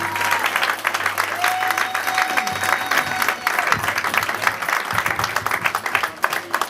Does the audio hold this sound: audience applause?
yes